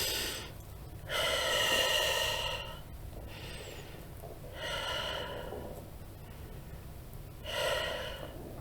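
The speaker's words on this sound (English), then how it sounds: "take 3 deep breaths." Three slow, deep breaths taken during a short guided meditation, each a long airy inhale-exhale swell separated by quiet pauses, close and soft with no talking.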